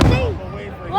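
Fireworks burst loudly at a downtown display in Toledo, a single heavy boom with a whistling crackle trailing off and another rising whistle at the end.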